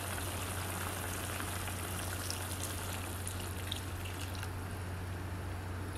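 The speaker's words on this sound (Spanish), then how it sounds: "Ahí procedemos a echar la primera agua de coco." Coconut water is poured into a simmering crab stew (encocado de cangrejo), giving a soft, continuous trickling and bubbling wash that stays faint and even, with a low steady hum beneath.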